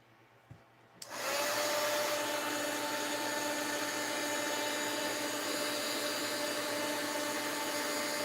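After a second of quiet, a heat tool blows a steady, even rushing stream of air to melt wax for seals. It runs loudly and continuously with no talk over it.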